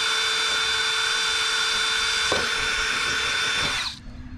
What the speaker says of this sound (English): we really want to let the drill bit do the work